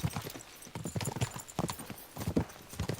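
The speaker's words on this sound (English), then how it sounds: "We should spur the horses on!" Horses' hooves gallop in the video game Kingdom Come: Deliverance II, a rapid, continuous clip-clop drumming on the ground, moderately close and steady throughout with no talk over it.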